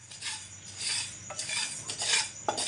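Mixed vegetable pickle roasting in a pan, with repeated spoon scrapes and metallic clinks against the pan as it is stirred, close and moderately loud with no voices.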